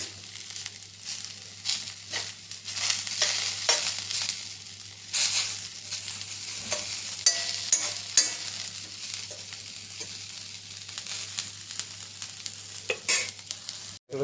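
Stuffed okra (bharli bhendi) sautéing in a pan with a light sizzle, broken by repeated scraping and stirring strokes of a spatula, close and moderately quiet, with no voices.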